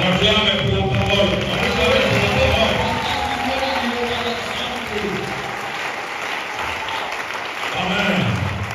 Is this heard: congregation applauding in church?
yes